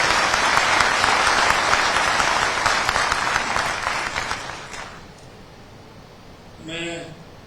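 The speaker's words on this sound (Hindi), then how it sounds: "हमारे बीच में एक बार जोरदार तालियों से आप" Loud audience applause greets the Vice President at a national electropathy seminar, dense and sustained for about five seconds before fading out, followed by a brief voice.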